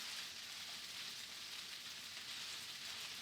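Beef tips fry in a pan, giving a soft, steady, even sizzle that stays faint and unbroken throughout, with no talking.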